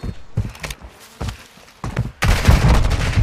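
Gunfire in Call of Duty during a Search and Destroy round, several sharp close shots and short bursts with thuds between them, ending in a louder sustained burst.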